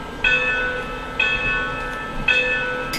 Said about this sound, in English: You can do a single hit bell if you feel like that.